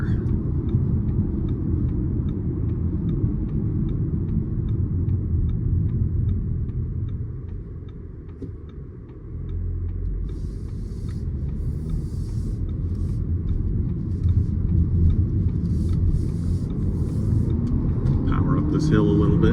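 A 2025 Audi A5 climbing a hill under acceleration, heard from inside as a smooth low engine and road rumble with a regular ticking indicator, while someone talks over it.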